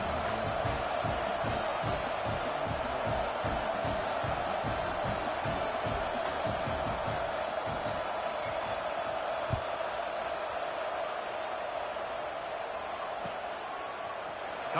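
Stadium crowd in the video game NCAA Football 26, a steady subdued murmur and roar filling the background throughout without sharp cheers.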